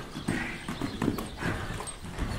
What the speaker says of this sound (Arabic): رجعنا لهاد الحصان هذا ما شاء الله، حصان ممتاز جميل